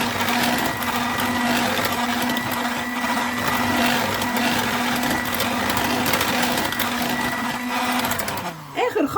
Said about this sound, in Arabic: عصرت البرتقال كويس وبرده هضربها بحيث يختفي البرتقال برده فيه